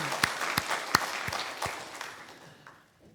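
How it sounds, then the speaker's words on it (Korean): A Sunday church congregation in Korea claps for the choir: a few sharp, separate claps stand out over a light patter, then the applause thins and fades away. "박수하겠습니다"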